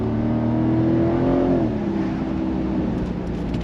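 A Mercedes SL550 V8 accelerating from inside the cabin, a steady loud engine drone whose pitch climbs and then settles as the car pulls hard, with no talk over it.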